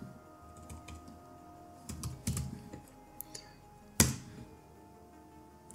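Computer keyboard typing in short bursts of keystrokes, near and fairly quiet, with a sharper key clack near the end and no talk.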